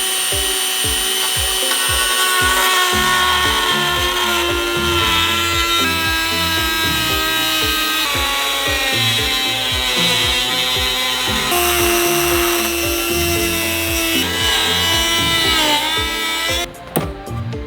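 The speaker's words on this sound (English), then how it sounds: "Cutting into your headlights, a little bit scary" A power tool cuts into a Subaru WRX STI headlight, a loud, continuous high-pitched whine and grinding with fast repetitive chatter, stopping abruptly near the end.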